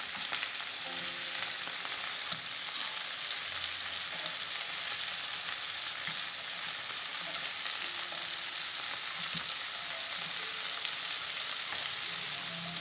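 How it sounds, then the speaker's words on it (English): Shell-on prawns fry in hot oil for a soy sauce prawn stir-fry, giving a steady, dense sizzle and crackle that stays even and loud throughout, with no voices. "Fry until the shell turns golden brown, about 1 to 2 minutes. Flip over and fry until golden brown."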